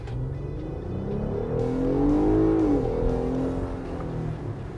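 Jeep Gladiator engine revving up hard in race throttle mode, a loud, close, rising roar that climbs in pitch through the middle and then eases back, with steady rumble throughout.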